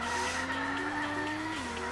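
A car engine in the video game Clumsy Fred holds a steady loud drone while tires skid and squeal continuously, the pitch dipping briefly near the end.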